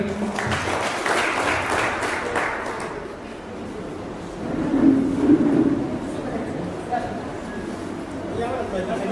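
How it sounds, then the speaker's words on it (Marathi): Applause for students at a school alumni get-together fills a hall with dense clapping that peaks early and then fades. Crowd chatter and voices continue underneath and take over as the clapping dies away. "एकदा टाळ्या मुलांसाठी."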